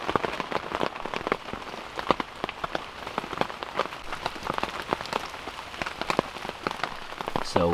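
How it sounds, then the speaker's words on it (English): Rain falling and pattering on a surface during a hunting trip in Hungary, a dense continuous spatter of close drops with sharper individual hits scattered throughout. "it's supposed to be rain the whole way through until about 4 a.m. in the morning"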